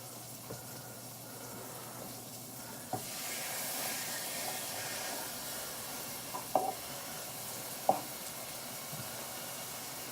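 Pork chops for a honey glaze recipe sizzle steadily in a skillet, four cooked at a time. A broad hiss swells partway through, with a few sharp clinks and taps on top.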